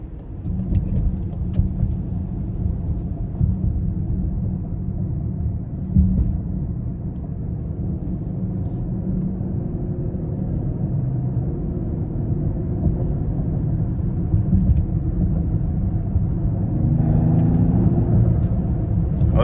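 A 2021 Lincoln Aviator Grand Touring 3.0 engine accelerating in Excite mode on the interstate rumbles steadily from inside the cabin, a deep continuous drone that swells slightly louder toward the end, with no talking.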